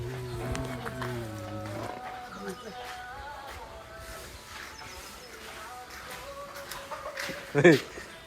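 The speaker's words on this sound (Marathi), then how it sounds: "कोंबडीनं अंडं घातलेलं आहे" A desi hen that has just laid an egg clucks in short repeated calls, with people talking over it and a brief louder burst near the end.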